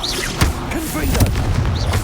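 Confringo blasting spell explosions from the Hogwarts Legacy video game, a few sharp booming bursts going off amid game noise, with a voice calling out spell names.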